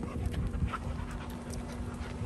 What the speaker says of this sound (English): There's my dog being crazy.